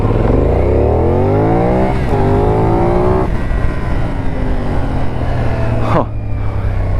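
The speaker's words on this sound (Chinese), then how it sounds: "给油。" A CFmoto 450NK motorcycle engine revs hard on the throttle, its pitch sweeping upward, dropping back and climbing again, loud and close throughout, ending in a brief snap as the throttle closes.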